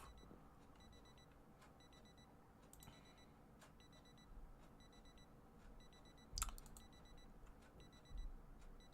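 Wristwatch alarm in the game Project Zomboid beeps in faint, repeated electronic bursts above a low background rumble, with a few soft clicks and thumps between them.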